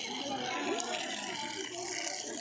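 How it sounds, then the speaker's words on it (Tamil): Waste water flows along a kitchen garden channel toward the plants, a steady close trickling and splashing that carries on throughout, with people talking over it. "தண்ணி போகுது."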